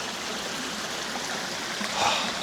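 Little Sandy's Creek flows steadily through flat autumn forest land, a soft continuous rush of water that holds even throughout, with a slight swell near the end and no voices.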